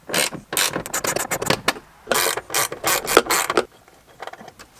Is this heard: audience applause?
no